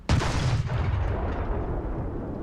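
A single heavy tank cannon blast in War Thunder, loud and close, with a booming low-end report that rolls into a long decaying rumble.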